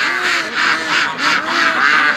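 Ducks on a farm raised for charity, waking slowly in the morning, give a steady run of overlapping quacks close by, rising and falling in waves with no talk.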